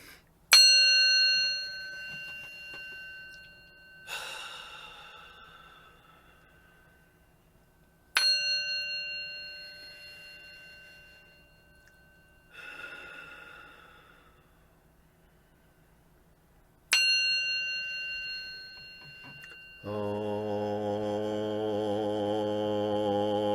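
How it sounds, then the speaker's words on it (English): A small meditation bell is struck several times at spaced intervals, each ring decaying slowly into silence. Softer strikes fall between the bright rings, and a steady humming tone comes in near the end. "I just want to ring us in with our little bell in meditation"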